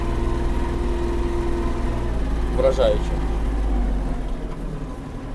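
A Kubota GL-320 Japanese mini tractor engine hums at a steady idle-like drone while it drives and maneuvers, with someone talking briefly over it.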